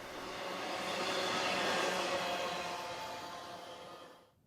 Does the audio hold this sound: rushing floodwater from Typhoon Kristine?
no